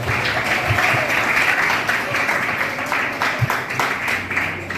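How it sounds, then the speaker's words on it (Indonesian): Steady, full applause from an audience at an Islamic boarding school event in Cirebon, West Java, continuous crowd clapping with occasional louder individual claps and low murmur underneath. "Kita beri tepuk tangan kepada mewakili kita hari ini."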